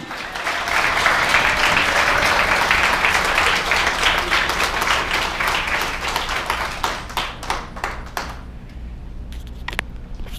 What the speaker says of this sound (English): Give them all a round of applause for me, please